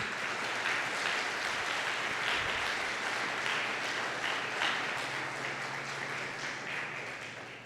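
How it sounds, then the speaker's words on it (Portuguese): A church congregation applauds, a dense sustained patter of many hands clapping at moderate distance that slowly fades toward the end. "Aplauda ao Senhor por isso."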